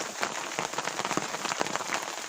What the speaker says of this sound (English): It's like being camping in the rain or in a caravan in the rain.